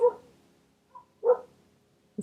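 Distant dog barks, a couple of soft, separate woofs with a brief pause between, faint against a quiet background.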